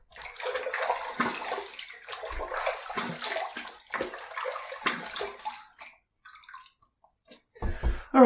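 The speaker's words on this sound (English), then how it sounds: "All right, let's rinse." Running water splashes in bursts at a bathroom sink while rinsing during a wet shave with a safety razor, uneven close gushes and hand splashes that pause and then resume near the end.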